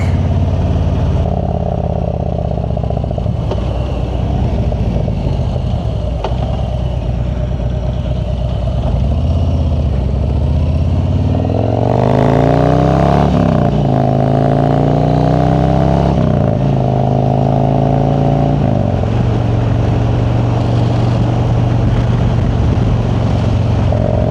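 A motorcycle being ridden, its engine droning steadily close by, then revving up through rising gear pulls before settling back to a lower even hum, loud and continuous with no talking.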